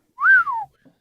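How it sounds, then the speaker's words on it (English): A single wolf whistle, one sharp rising then falling tone lasting about half a second, loud and close, heard alone against silence. "And he wolf whistles."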